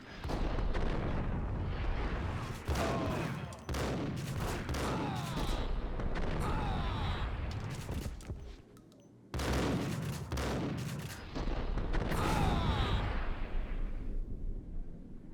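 Heavy gunfire from the Max Payne video game roars almost nonstop in dense, loud bursts and blasts, with a brief drop to near silence midway before the shooting resumes just as intensely.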